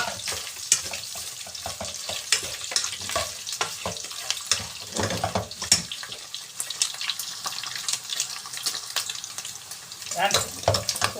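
Frying in hot oil until golden brown while cooking pakbet, the Filipino vegetable stew, with a steady sizzle and crackle broken by clinks and stirring sounds throughout.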